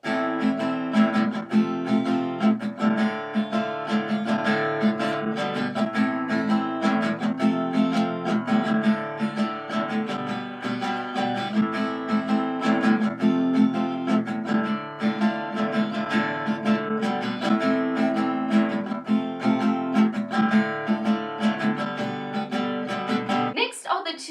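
An acoustic guitar strums the chorus chords of a song in a steady, continuous rhythm, played up close and fairly loud with no voice over it.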